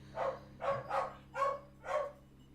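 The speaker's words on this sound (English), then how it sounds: "You're going to hear some barking." Puppies barking downstairs in a house: five short, fairly faint yips in an uneven rhythm over a quiet background hum.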